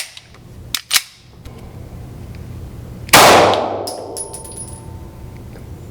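A Taurus G3C pistol fitted with a TORO slide fires at a target 10 yards away: a single loud sharp report with a long decaying tail, after a couple of brief metallic clicks.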